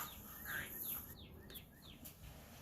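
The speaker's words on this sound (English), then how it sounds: "I love hearing the birds in the evening." Birds chirp faintly in the evening, a few thin, rising calls at a distance over quiet outdoor background noise.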